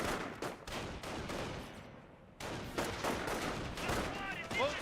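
Gunfire from paratroopers in a Company of Heroes battle, rapid bursts of rifle and machine-gun shots crackling repeatedly, with a brief lull midway before dense firing resumes.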